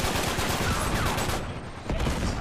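Dense, continuous gunfire fills a match on the Lab map in Uncharted 3, loud and overlapping bursts blending into a constant roar of shots with no pauses.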